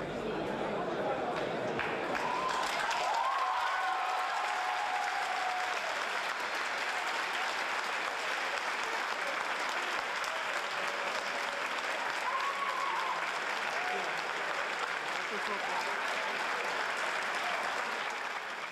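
Sustained applause fills an assembly hall just after a vote closes, a dense, steady wash of many hands clapping at moderate distance, with murmured voices and a brief higher-pitched tone mixed underneath.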